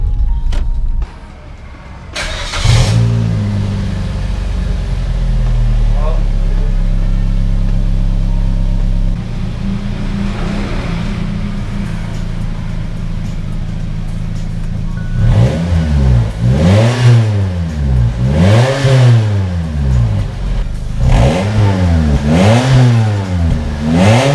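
Suzuki Swift GT2 with a DIY upgraded exhaust idles loudly and steadily, then gets revved in a series of sharp, rising and falling blips near the tailpipe, each rev quickly dropping back to idle.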